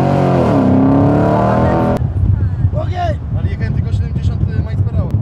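An American school bus engine revs hard, its pitch climbing loudly for about two seconds as the driver accelerates, then cuts abruptly to a lower, rougher engine rumble with people talking over it.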